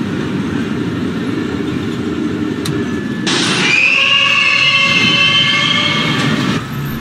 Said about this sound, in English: This is a Brighton Beach bound Q Express train.